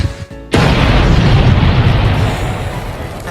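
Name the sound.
cartoon explosion of Squidward in SpongeBob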